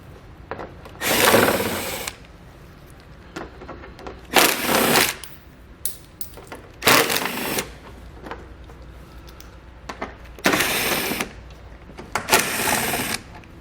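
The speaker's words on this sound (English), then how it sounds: "We'll remove those all using an 8mm socket." An 8mm socket on a power driver removes screws along the underside of a 2021 BMW X5 bumper, giving five separate whirring bursts with quiet pauses between them, close and fairly loud.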